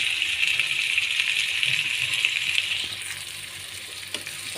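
Tomatoes go into a pan of browned frying eggs, a loud steady hiss of hot oil close by that eases slightly partway through, with a few faint clinks and no talking.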